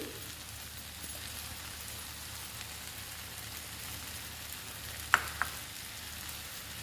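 Garlic and tamarind frying in a pan, a steady soft sizzle that holds evenly throughout, with a couple of sharp pops or clinks near the end.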